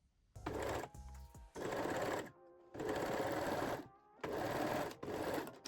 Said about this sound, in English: And sew the shoulder seam.